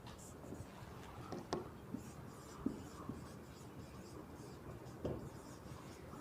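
A physics lecturer writes on a board during a classroom lecture, producing faint, scattered taps and scratchy strokes with short pauses in a quiet room.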